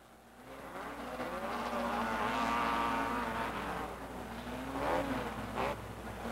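Off-road racing three-wheelers, quads and motorcycles at Raven Raceway in 1987 roar past as a machine heads for the checkered flag, a steady engine drone with rising and falling revs, loud and continuous with no voices.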